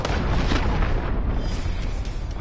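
A cruise missile explodes in a military video game, giving a loud, dense, rumbling blast that roars continuously without clear breaks and with no voices over it.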